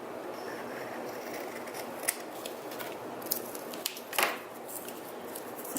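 Scissors snipping through a paper card banner, a few quiet, sharp cuts scattered over faint background hiss.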